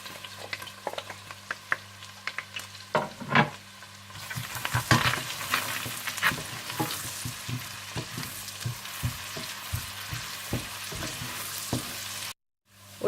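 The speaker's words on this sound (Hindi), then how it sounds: "जैसे ही तेल और मक्खन गर्म हो जाए तो आप इसमें प्याज डालकर हल्के से ब्राउन कर लें" Onions browning in hot oil and butter for palak paneer, a steady sizzle and crackle with clatters of a spoon stirring the pan throughout, close and alone with no voices.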